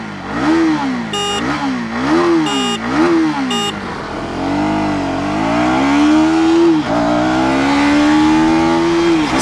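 A KTM Duke 250 or 2025 Hero Xtreme 250R motorcycle engine revs up and down a few times, with a short horn-like beep between revs, then pulls away in an acceleration test, accelerating steadily with rising pitch.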